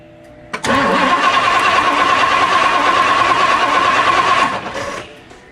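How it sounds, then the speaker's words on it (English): A 1964 Ford Thunderbird engine cranks over on the starter, a loud, steady churning whir that holds for about four seconds and then winds down without catching. "I'm going to crank the engine over again and let's see if we see a spark this time."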